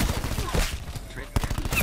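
Rapid gunfire bursts from the Black Ops 4 video game rattle close and loud in dense, rhythmic fusillades, with a voice talking over them.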